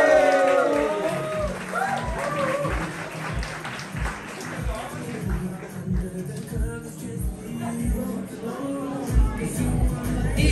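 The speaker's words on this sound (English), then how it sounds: "make some noise, go crazy, whoop and cheer for Marcus Donaldson" A crowd at an awards party claps and cheers continuously, with whoops rising over the applause and voices mixed in throughout.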